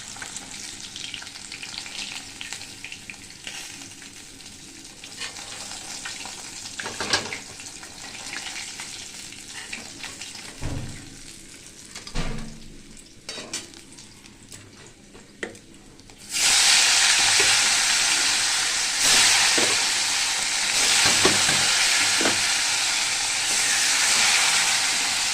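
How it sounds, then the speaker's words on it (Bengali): Fish fries in a pan with a low crackle and scattered clinks of handling, then a much louder, steady sizzle surges in and continues, close by. "মাছ লাল করে না ভাজলে ভালোই লাগে না, লাল করে ভাজা হয়ে গেছে। আর কিছু মাছ আছে ভাজবো।"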